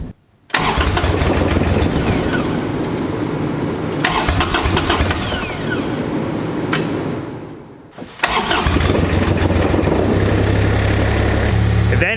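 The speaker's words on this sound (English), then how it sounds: "Kind of started chugging, and it just died." Cold Kubota diesel tractor engine cranking to life, then chugging loudly and unevenly near the mic, dropping out briefly, catching again, and sputtering on with a rough low rumble.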